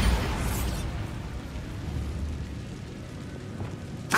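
Spell explosions from Confringo and Bombarda in the Hogwarts Legacy video game on PS4, a loud fiery burst up front that fades into a long rumbling tail, with a sharp pop right at the end.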